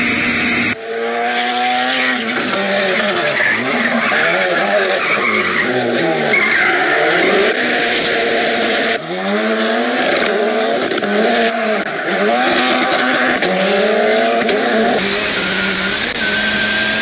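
A car skids and revs hard, tires squealing and the engine rising and falling in waves, loud and continuous for the whole stretch with one brief break.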